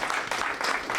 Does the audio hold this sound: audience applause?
yes